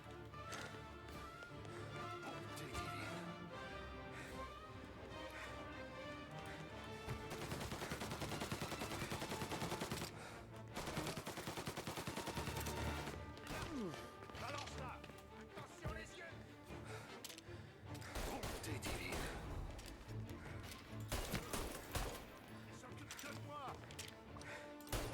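Gunfire in the video game Mafia, with repeated sharp shots and bursts scattered through a dense, busy soundscape of music and effects, someone talking over them.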